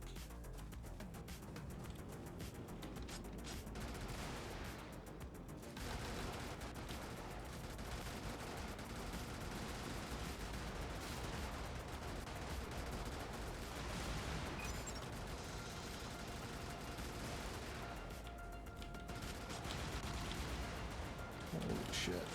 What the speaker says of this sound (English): that 8mm cannon is really puny